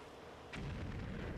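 Grenade detonating in the toy-soldier combat game Army Men 3D, a single faint, muffled boom followed by a low rumbling tail against quiet background.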